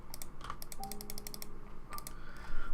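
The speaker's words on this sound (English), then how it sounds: "Yes, I know the incessant clicking probably sounds amazing." Rapid, incessant clicking from a computer keyboard or mouse comes in quick irregular bursts, fairly quiet and close, with short pauses between runs and no talking.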